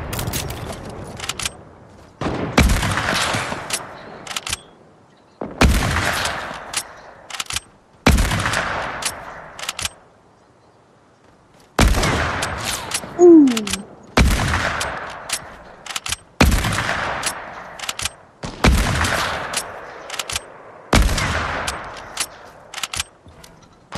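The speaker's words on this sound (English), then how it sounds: "Dang, I keep shooting." Rapid automatic gunfire from the video game Fortnite comes in repeated loud bursts of a second or two each, separated by short pauses and one longer silent gap.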